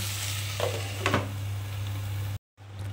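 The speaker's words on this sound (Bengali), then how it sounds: "ঢাকা দিয়ে এইভাবে পেঁয়াজটাকে ভেজে নেওয়ার পর" Chopped onions sizzle quietly in a pan on the stove, with a couple of brief stirring scrapes early on and a soft, steady frying hiss; the sound drops out for a moment near the end.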